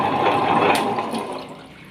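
Water poured into the stone drum of a wet grinder, a brief loud splashing gush that tapers off over about two seconds.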